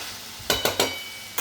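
Cauliflower and potato bhaji is stirred in a covered pan. A few quick scraping stir strokes come close over a soft background sizzle, without speech.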